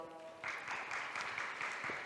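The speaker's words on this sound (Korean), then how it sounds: "큰 박수 주세요" Clapping from a workshop audience breaks out and continues steadily, a dense wash of hand claps filling the room after a brief moment of quiet.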